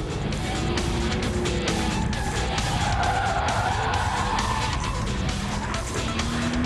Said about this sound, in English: at chicanes you can use a bit of the old lift-off oversteer theory